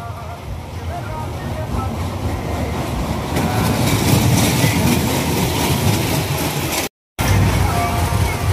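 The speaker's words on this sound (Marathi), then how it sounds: "कसली ट्रेन जाते बघा, आग सोडत" An amusement park ride train rumbles past, a broad mechanical roar that swells and stays loud, with people talking over it.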